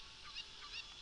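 Short squawking clucks from a cucco chicken in Zelda: Ocarina of Time, two quick bird-like calls over a low steady game backdrop, no voices.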